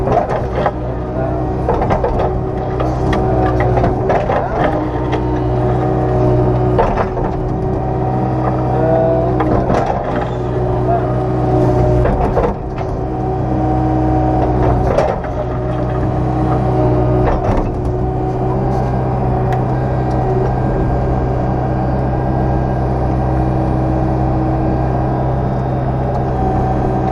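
An excavator engine idles and warms up during scrap clearing, a loud continuous rumble with mechanical clanks and creaks throughout and no talking.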